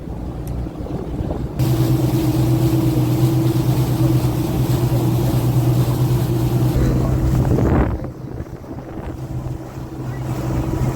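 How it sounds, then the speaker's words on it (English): A commercial crab work boat's engine drones loudly and steadily for several seconds on open water near Crisfield and Smith Island, then cuts away, leaving wind noise and faint water. "but that's definitely a work boat."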